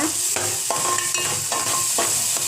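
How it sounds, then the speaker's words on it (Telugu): A spoon stirs fish gravy with ginger garlic paste and tomato puree in a pan, repeated scraping strokes over a steady background sizzle, close and fairly loud with no talking. "అల్లం వెల్లుల్లి పేస్ట్ ఇదంతా బాగా కలుపుకోవాలి"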